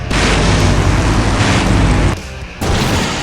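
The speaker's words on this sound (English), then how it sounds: "Now that's an explosion, ladies and gentlemen." Loud, sustained explosion roar in the Full Throttle Remastered video game, a dense broadband blast rumbling for about two seconds, briefly dropping away, then surging back with continued rumble.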